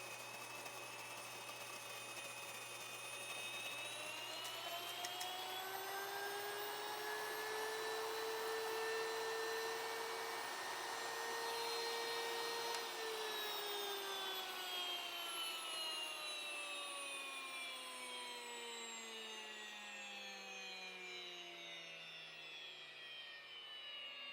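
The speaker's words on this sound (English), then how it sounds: "here's my grain, here's my grain mill, and now we can start grinding" An electric grain mill grinds grain into flour for homemade sourdough bread, a steady loud motor whine with rising and falling tones that holds for about twenty seconds, then winds down.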